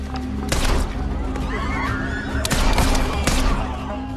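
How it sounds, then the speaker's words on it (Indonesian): Gunfire in a film shootout, with a lone fighter taking on many enemies: sharp broadband bursts at scattered moments over a steady loud rumble of action-scene noise, with no clear talk. "Pertemuan ini pun berujung dengan aksi baku tembak."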